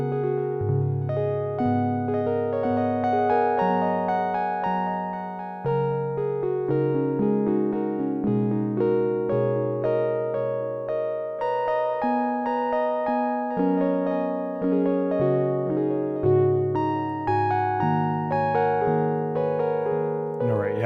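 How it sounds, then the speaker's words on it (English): A sustained Sequential Take 5 analog synth chord progression with a warm, smeared emulated bucket brigade delay trailing each note, playing continuously and fairly loud with no talking. "the Bucket Brigade delay effect, which is an emulated Bucket Brigade delay"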